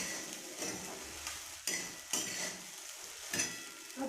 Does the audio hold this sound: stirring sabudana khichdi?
yes